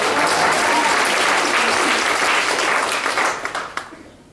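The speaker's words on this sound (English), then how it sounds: "Come on, clap, clap." A stand-up comedy audience breaks into loud, dense clapping that holds steady, then thins into a few scattered claps and fades out near the end.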